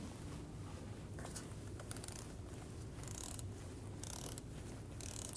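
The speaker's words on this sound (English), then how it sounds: "Snug the nut down." A nut is run down onto the alternator clamp stud of a 2.5L five-cylinder VW Passat of the 2012-2022 generation, with faint, continuous ratcheting clicks in quick repeated bursts heard close up and without talk.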